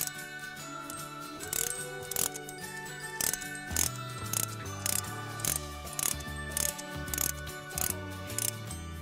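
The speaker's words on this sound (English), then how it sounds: "So you get it centered on your tires and you just ratchet it out." A wheel chock is ratcheted tight between the tires of an RV trailer, giving repeated mechanical ratchet clicks in a steady stroke rhythm, close and distinct, with no talking.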